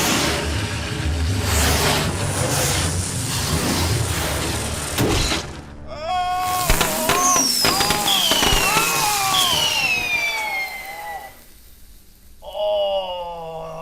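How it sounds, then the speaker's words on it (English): An indoor firework goes off with crackling bursts, sharp bangs and shattering debris, then whistling, rising squeals trail away over several seconds, loud and close. "Enjoy the fireworks."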